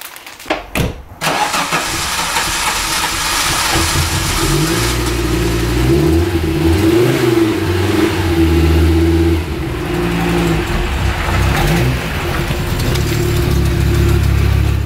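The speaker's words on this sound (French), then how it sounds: "le collecteur d'échappement n'est plus parfaitement étanche, et ça s'entend" An Audi 200 Quattro Turbo engine with a leaking exhaust manifold cranks and starts, then idles and revs nearby with a raspy, ticking exhaust note, loud and steady without talk.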